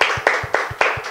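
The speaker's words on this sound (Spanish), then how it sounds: "yo le quiero dar un fuerte aplauso a Raquel. Vamos a aplaudir." Audience at a Latin women's television program clapping for a guest, a few sharp rhythmic hand claps close and clear, evenly spaced.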